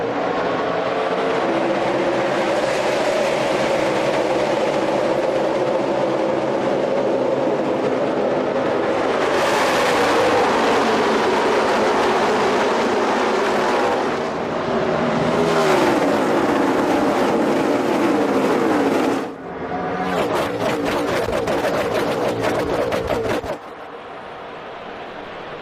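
NASCAR stock cars racing at Michigan Speedway in the 2012 Pure Michigan 400, a loud sustained roar of engines sweeping past with rising and falling pitch, several sharp cutoffs as packs pass, under crowd-like broadband noise.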